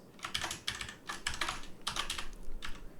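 Quick bursts of keystrokes on a computer keyboard while a sketch name is typed in Onshape CAD software, with close, crisp clicks coming in short clusters separated by brief pauses.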